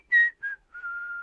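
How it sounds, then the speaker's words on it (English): A short whistled riff from a song: three clear tonal phrases, a bright opening note, a brief middle note and a long sustained final tone. The whistling is close, clean and solo, with no voices or instruments. "the recurring riff through the song that is hummed and whistled"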